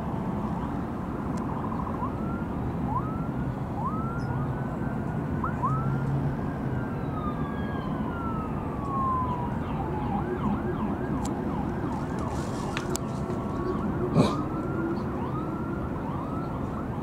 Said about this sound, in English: And the sirens. Gotta have your bedtime sirens.